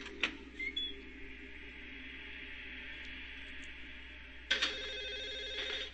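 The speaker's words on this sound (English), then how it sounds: "the phone does sound louder here" Telephone in the Silent Hill 4 video game ringing in steady repeated electronic trills against a low ambient drone, loud and close, with no talking.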